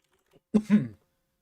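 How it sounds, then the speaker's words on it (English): A single short cough, close and fairly loud, bursts out in two quick pulses in a quiet room, preceded by a faint small sound. "Sorry, I'm still coughing a little bit."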